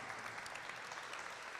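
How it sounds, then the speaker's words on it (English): Steady applause fills a graduation ceremony for student athletes at Uchenna Academy, a dense, even wash of clapping from an audience with no talk over it. "Let's give the guys another warm round of applause"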